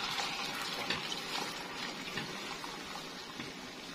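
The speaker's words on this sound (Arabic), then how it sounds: "بعد كده انزل بالمية المغلية" Boiling water pours onto rice in a pot as a steady, gushing splash that gradually eases over a few seconds.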